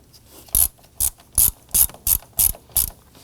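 A ratchet tightens the negative battery terminal nut on a 2015-2024 Nissan Murano: seven crisp, evenly spaced clicking bursts, close and alone.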